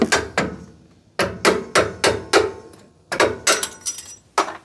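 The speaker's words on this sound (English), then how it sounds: "Screwdriver and a hammer." A hammer strikes a screwdriver to knock out a brake tab on a Mitsubishi Triton during a front brake job: sharp metallic blows in three bursts of two to four quick hits each, close and loud, alone.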